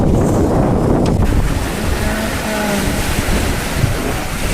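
Steady wind roars across the microphone while sea swells wash and surge around a sailboat crossing from Barbuda to Antigua, a loud, continuous blend of gusts and rushing water with no voices.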